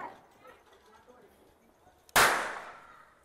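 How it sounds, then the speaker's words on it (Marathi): A Diwali firecracker bursts with one sharp, loud bang that echoes and decays over about a second, following faint, distant chatter and background noise. "सगळ्यांचे फटाके वाजवायचे चाललेत."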